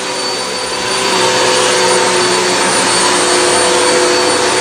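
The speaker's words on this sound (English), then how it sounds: "This Hoover has really good airflow, suction power, agitation," A Hoover High Capacity upright vacuum cleaner with wind tunnel technology runs on filthy carpet, its motor rising to a loud, steady high-pitched whine and holding there close up with no talking.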